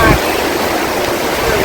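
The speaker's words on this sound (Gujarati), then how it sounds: "गाइस वरसाद શરૂ થઈ ગયો છે" Heavy afternoon rain pouring down in Modasa, a steady dense broadband wash of water that stays loud and constant from start to finish with no pauses.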